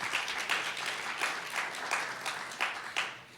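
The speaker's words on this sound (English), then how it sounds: "Let's give them a round of applause." A round of audience applause at a community cancer screening and health fair in Flint, Michigan, moderate clapping from a modest crowd, steady and slightly distant, with no speech.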